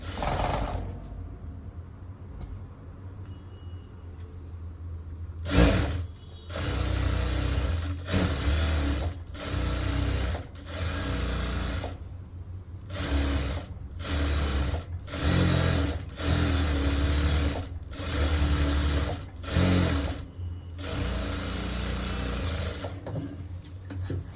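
Sewing machine stitching the edge of a folded blouse sleeve lining, running in repeated bursts of steady whirring with short pauses between, close and clear with no talk.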